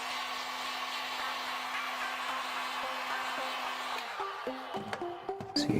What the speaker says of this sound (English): we'll try again, this time with the heat gun on a low temperature setting.